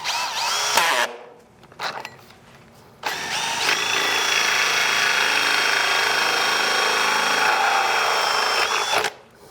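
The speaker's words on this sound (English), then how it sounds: "This is a hole saw that I'm using." A power drill with a hole saw cuts a 2-inch hole, opening with a quick burst, then a brief stop and a second short run before a long, loud, steady whine of cutting ends in an abrupt stop.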